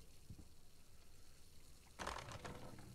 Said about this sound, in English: Always close your toilet before you flush, viewers.